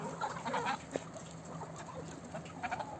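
Chickens clucking in short bursts among other farmyard birds, moderately close, with a steady background hum.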